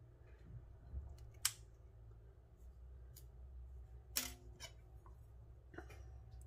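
Scissors snip through the silk of a red trapdoor spider's burrow in a few faint, sharp cuts spaced seconds apart over a quiet background.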